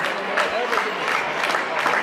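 A crowd at a religious discourse breaks into steady, dense applause, with sustained close clapping filling the whole moment at an even level.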